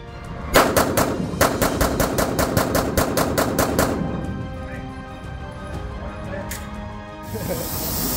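Ballistic shield taking a full magazine of live fire, a rapid string of sharp, loud gunshots in tight bursts lasting a few seconds, then a quieter stretch with faint rattles and a hiss at the end.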